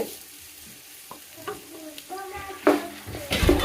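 Three large tomatoes go into a hot pan for a meat rice lunch, sizzling and frying while a spoon scrapes and stirs in irregular clacks, getting louder toward the end.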